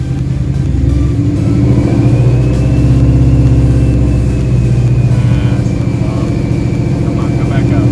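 Car engine fitted with a Whipple supercharger revving and held steady at elevated RPM, a loud continuous droning roar with a faint rising whine, very close.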